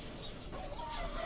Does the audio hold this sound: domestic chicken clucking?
yes